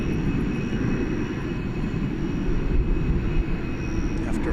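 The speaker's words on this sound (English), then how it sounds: "here goes what I believe will be our last flight of the night" An airliner taking off at night from a runway at DFW Airport, a loud, steady, heavy engine roar that fills the whole stretch without letting up.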